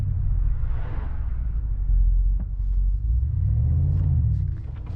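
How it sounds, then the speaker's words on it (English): A 2025 Mercedes-AMG G63 with its V8 pulling away from a standstill in comfort mode, a loud, steady low engine rumble that swells slightly as the SUV moves off. "When I start to move, it has a really loud rumble,"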